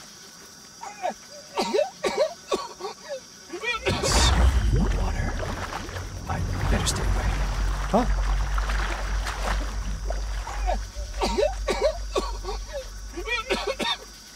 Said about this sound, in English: Why are you coughing?